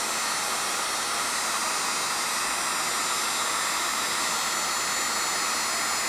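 A heat gun on its high setting, roughly 1,000 degrees at the nozzle, blows a steady, loud, broadband airy roar while melting paint into a rubber overmolded stock or grip, with no break or change in tone.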